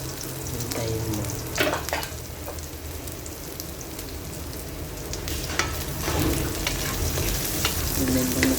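Onion, garlic and ginger sizzle steadily in a hot pan while cooking kangkong with pork, with a constant crackling fry and occasional scraping stirs of a utensil against the pan.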